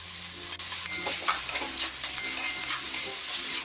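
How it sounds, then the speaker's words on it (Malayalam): Chopped tomatoes stirred into onions frying in a pan for a Kerala-style chicken varattu, steady close sizzling with repeated scraping strokes of the spoon throughout, no talk. "ഈ ചെറുതായിട്ട് അരിഞ്ഞു വെച്ചിരിക്കുന്ന ടൊമാറ്റോ ചേർത്തിട്ട് ഇളക്കി കൊടുക്കാം"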